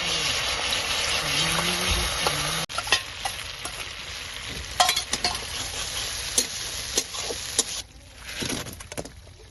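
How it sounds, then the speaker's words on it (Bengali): Amul butter frying with chopped ginger, garlic and green chili in a pan, a steady loud sizzle broken by close scraping and stirring strokes, the hiss briefly dropping away near the end. "এখন বাটার দিয়ে দেবো, আমুল বাটার।"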